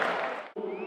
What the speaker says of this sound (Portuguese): Saiu aplaudido.